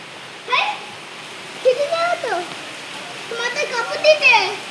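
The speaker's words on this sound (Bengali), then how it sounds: "বৃষ্টি হচ্ছে তো এই দেখো আজকে নদী দিবস আর এই হালে বৃষ্টি হয়ে যাচ্ছে" Rain falls outdoors as a soft, constant hiss, while a child and an adult talk over it in short bursts.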